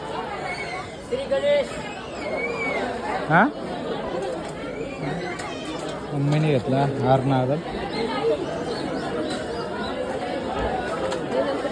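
Dense crowd chatter outside a Ganpati temple during Sankashti Chaturthi, a steady hubbub of many voices with nearby people speaking over it.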